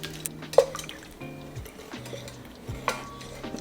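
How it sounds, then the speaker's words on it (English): A spoon stirs onion powder, garlic powder, black pepper, Italian seasoning and bay leaves in a pot, with soft scraping, light clinks against the metal and a faint wet slosh, quiet and close. "Mix that in real good"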